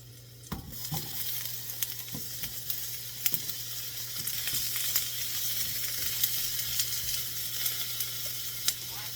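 Garlic and onion sizzle in a frying pan with a constant close crackle and hiss, punctuated by occasional sharp clicks and scrapes of a utensil stirring against the pan.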